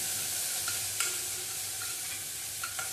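Bread pakoda filling being stirred and mixed in a hot pan with kasuri methi, a steady soft sizzle broken by several scraping spoon strokes, close and continuous with no talking.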